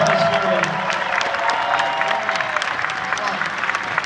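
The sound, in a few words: convention audience applauding Ian McDiarmid and Dennis Muren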